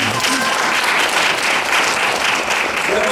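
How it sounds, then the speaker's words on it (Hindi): An audience applauds steadily, a dense wash of many hands clapping at once without pause, loud and close throughout. "ताली बजाए।"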